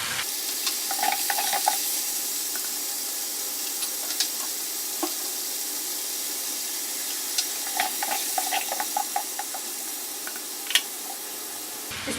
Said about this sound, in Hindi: अब इसमें हम ये स्लाइस टमाटर डालेंगे।